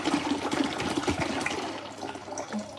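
Water pours steadily into a container to cover a rock thought to be a meteorite, a continuous splashing gurgle for nearly three seconds.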